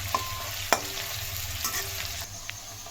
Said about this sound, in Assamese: এয়া পিঁয়াজখিনি ভাজি ৰঙচুৱা হৈ আহিছে